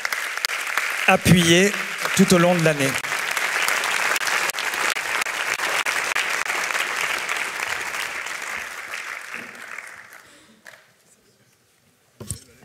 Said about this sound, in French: encore merci de les applaudir